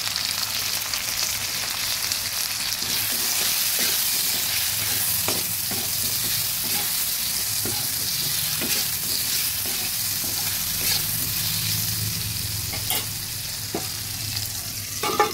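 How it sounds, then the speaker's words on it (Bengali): Potatoes seasoned with salt and turmeric fry in oil in a kadai, a loud steady sizzle with intermittent scraping stirs and light clinks throughout. No talking is heard. "হালকা একটু নুন হলুদ দিয়ে আমি আলুগুলো ভেজে নিচ্ছি"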